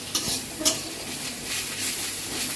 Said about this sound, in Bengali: এই যে সজনা শাক ভাজা শেষ।